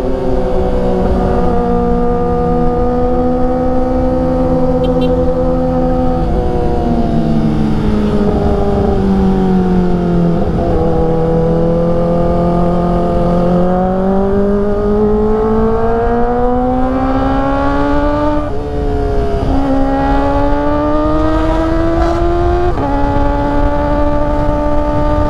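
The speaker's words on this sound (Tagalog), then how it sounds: "BMW GS 1250. Let's go." BMW GS 1250 motorcycle riding on a mountain road near Mt. Banahaw in Lucban, Quezon, its loud engine droning close up and rising in pitch through repeated accelerations and gear shifts, with heavy wind rush and no talking.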